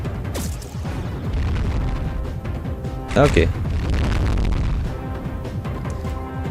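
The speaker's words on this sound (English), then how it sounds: "we are going to go with maybe a single shot from this portal cannon" A portal cannon shot fires in the Halcyon 6 space RPG, a deep booming blast with a sharp burst near the middle over a rumbling game background, while someone speaks briefly.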